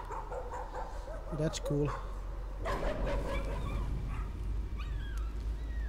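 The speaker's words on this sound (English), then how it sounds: "Dog painting is barking at me." A dog in a painting barks in the horror video game Layers of Fear, with a couple of sharp barks under a person's voice and low game ambience.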